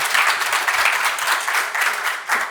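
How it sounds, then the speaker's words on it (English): Dense, loud applause fills a workshop room after a presentation about data-driven strategies for a Dutch food bank, with many hands clapping together at close range. It holds steady throughout and has no talk over it. "Please give them a round of applause."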